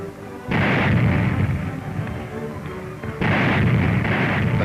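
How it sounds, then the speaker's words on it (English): A WWII Royal Navy corvette drops depth charges at sea: two heavy, rumbling underwater blasts in succession, each a sustained low roar, loud and close, with no voices. "the vast explosions of her depth charges seal the fate of any U-boat in the vicinity"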